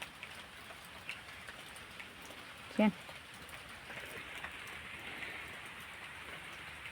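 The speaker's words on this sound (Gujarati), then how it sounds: "અહીંયા આપણે વરસાદ ચાલુ" Steady rain hiss with scattered drops, continuous throughout, falling in a farming village; a brief louder sound stands out near the middle.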